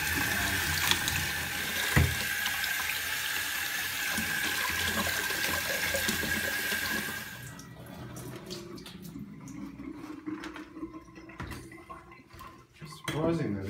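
Crushed charcoal chips being washed in water in a bucket: steady close sloshing and rattling of chips for several seconds, then quieter swirling with scattered clinks and splashes.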